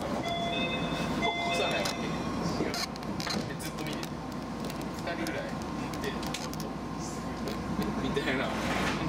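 An out-of-service Tama Monorail train passes on the line between Tama Center and Kamikitadai, giving a steady, loud rumbling roar with some high whines and clatter, while people talk nearby.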